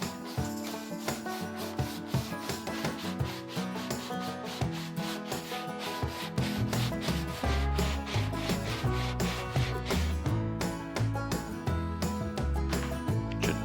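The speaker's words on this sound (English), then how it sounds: "sanding block is better for this." A sanding block scrubs wooden frame patterns for a steel boat refit in quick, rhythmic back-and-forth strokes, close and steady throughout.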